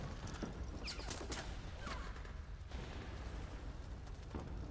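Weapon fire in Metal Gear Solid 4 on PlayStation 3: several quick game gunshots and bursts crack over a dense, low rumbling battle bed, fairly loud and continuous throughout.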